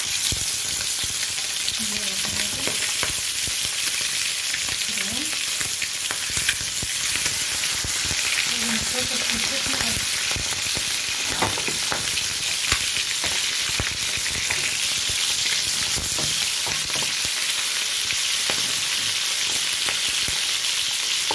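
Seasoned chicken sears in ghee in a hot pan, a steady loud sizzle and crackle running the whole way through with a few brief stirring scrapes and clinks, no talking.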